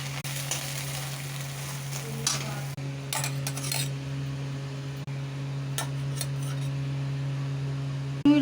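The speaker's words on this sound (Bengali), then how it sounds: "ঢেলে দিলাম কড়ার মধ্যে এই যে আমলেটটা।" Beaten eggs for a two-egg omelette frying in a wok, a steady close sizzle with spoon scrapes and metal stirring clinks throughout, no voices.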